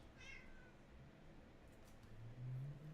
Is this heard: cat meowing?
yes